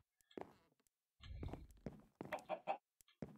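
A chicken in a video game clucks in short, choppy bursts with a few thumps in between, fairly close and with no talking.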